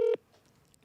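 A single short telephone keypad tone sounds loudly, then a faint low murmur continues before it fades out.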